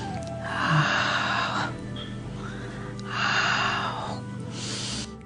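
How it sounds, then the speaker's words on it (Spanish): Vibratory Hado Kikyu breathing, heard as two long, forceful breathy exhalations with a hissing, airy rush, separated by a short pause and followed by a third softer breath, close and without talk. "hacemos un sonido de Hado, Hado Kikyu, respiración vibratoria o vibracional"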